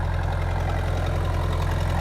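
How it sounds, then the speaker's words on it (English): A tractor engine idles steadily while warming up on a wet morning, a loud, even low rumble with a constant knocking pulse that runs without a break. "I'm gonna let the tractor warm up a little bit."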